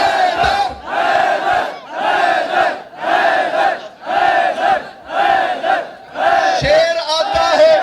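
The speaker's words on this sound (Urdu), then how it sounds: "مل کے بولا حیدر حیدر" A large crowd at a religious Jashan gathering chants the Haidar slogan in unison, with six or seven loud, rhythmic bursts spaced evenly, each call rising and falling together.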